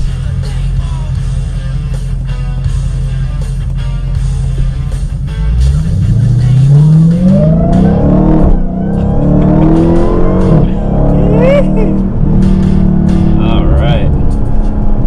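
A 2019 Dodge Challenger Hellcat Redeye Widebody accelerating hard, its engine revs climbing through gears with rising supercharger whine and sharp downshift blips, loud from inside the cabin while someone talks.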